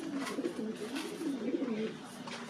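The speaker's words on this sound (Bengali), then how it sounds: "শুধু একবার দেখুন বন্ধুরা পায়রা দুটো" A pair of blue bar pigeons coo softly at close range, a faint run of low, rolling coos repeating over a couple of seconds.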